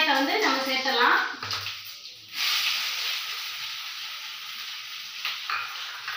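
Onions drop into hot oil tempered with fenugreek and fennel seeds for a dried-fish curry, bursting into a loud hissing sizzle that settles to a steady fry, with a brief stirring clatter partway through.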